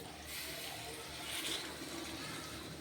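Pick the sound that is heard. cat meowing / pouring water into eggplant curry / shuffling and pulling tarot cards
pouring water into eggplant curry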